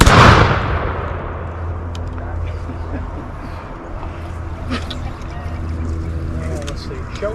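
An 18th-century musket volley fires as a single loud, sharp blast that rolls off into a long fading rumble, with faint voices and outdoor background continuing afterward.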